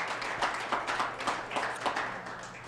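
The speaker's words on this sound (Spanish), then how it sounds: "Denle el aplauso" Church congregation clapping during a sermon, a soft, fairly distant wash of applause in uneven bursts lasting a few seconds, with no talk over it.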